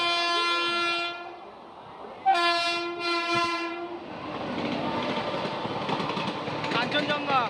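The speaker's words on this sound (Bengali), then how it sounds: "অবশেষে এদিক দিয়ে বেরিয়ে চলে গেল কাঞ্চনজঙ্ঘা এক্সপ্রেস।" The Kanchenjunga Express runs through Kamarkundu station without stopping. A loud two-tone horn sounds in long blasts, then the train rushes past close by with a rising rumble and rattling wheels.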